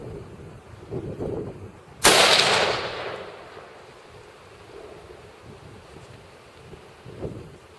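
Strong wind buffets a microphone outdoors in a game park, a low rumbling roar throughout, with one sharp loud crack partway through fading into the continuing gusts.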